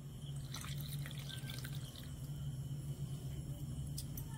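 Warm milk with melted butter mixed in is poured steadily into a cake batter, making a quiet, continuous liquid trickle with a few faint drips and clinks.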